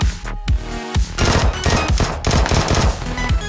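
Rapid bursts of gunfire crack out in PUBG, close and loud, several quick volleys separated by brief gaps over a few seconds, with no talking.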